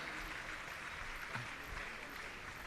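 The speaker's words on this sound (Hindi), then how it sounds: "आपकी तालियों में कंजूसी नहीं होनी चाहिए," Audience applause at a Jain religious gathering with a Muni Maharaj, a faint, even patter of many hands clapping, heard from a distance with no breaks.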